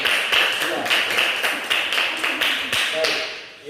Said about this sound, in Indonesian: kita tepuk tangan untuk teman-teman dari kelompok 2